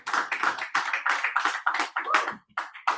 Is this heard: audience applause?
yes